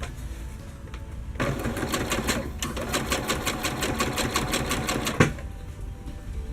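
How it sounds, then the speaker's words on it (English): A sewing machine runs in a fast, steady stitching burst for several seconds while sewing a skirt made from pants, then stops with a small clunk; quiet room noise before and after. "I'm gonna show you a little bit here on the sewing machine."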